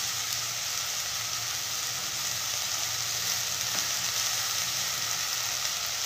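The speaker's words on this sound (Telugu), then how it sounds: "అదే కడాయిలో పుదీనా వేసుకున్నానండి." Mint leaves fry in oil in a kadai, giving a constant, even crackling sizzle that stays loud and unbroken throughout, with no voices.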